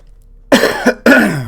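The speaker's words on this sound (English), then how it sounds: "coughing like a demon" A person coughs close to the mic in a few harsh bursts: one long hacking cough, a short follow-up, then another heavy cough after a brief gap.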